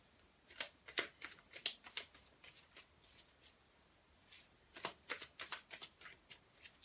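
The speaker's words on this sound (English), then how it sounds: "I want to pull a couple more cards for you" Tarot cards are shuffled and pulled from the deck, giving quick papery riffles and flicks in two close, quiet bursts with a short pause between them.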